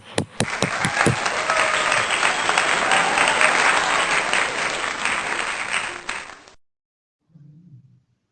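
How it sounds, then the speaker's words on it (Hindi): Applause breaks out in a Sunday church worship service, a few sharp individual claps first, then dense clapping from the congregation that fades out after about six seconds, followed by a brief low murmur. "तालियां।"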